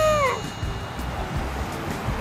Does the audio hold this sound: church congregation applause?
no